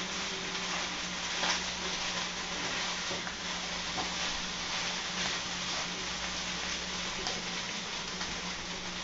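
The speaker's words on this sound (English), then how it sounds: "Now that sizzling in the background, of course, is the wife cooking." Food sizzles steadily in a hot pan, a continuous hissing crackle heard alone at moderate volume.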